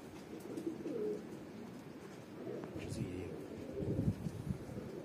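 Domestic pigeons cooing softly at close range as they land during a pigeon flight session, low throaty coos repeating irregularly over outdoor background noise, with people talking nearby.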